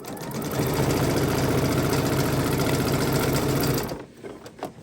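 A sewing machine stitches a quilt-as-you-go quilt in one loud, steady, rapid run of needle strokes lasting several seconds, then stops abruptly and leaves a few faint clicks.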